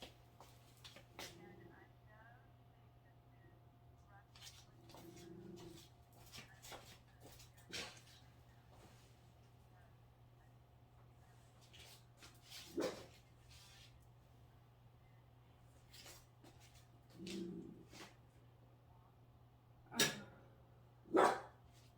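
A dog barking in a yard, a few short scattered barks heard faint and at a distance, separated by long quiet gaps over a steady low hum.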